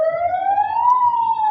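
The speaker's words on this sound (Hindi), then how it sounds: "एम्बुलेंस जा रहा है, and this is a vital thing." A close, loud ambulance siren sounds as a single steady, slowly rising wail over faint background noise, with no talking.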